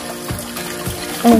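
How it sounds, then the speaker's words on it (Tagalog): Water from a natural spring on a mountain trail runs and trickles steadily at moderate volume, a soft continuous wash with a louder burst near the end. "Natural water ang lumalabas dyan."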